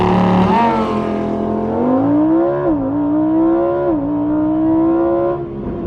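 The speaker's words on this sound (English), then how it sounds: "We're gonna go into Corsa mode, traction control all the way off, and see what it does." A 2020 Lamborghini Huracan Evo in Corsa mode with traction control off launches hard, its loud engine note climbing steadily through rising revs with brief dips at each gear change, close and continuous, no voices.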